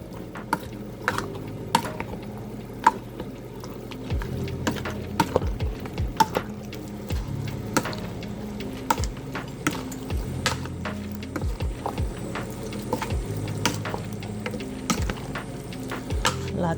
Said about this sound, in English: Mix everything again.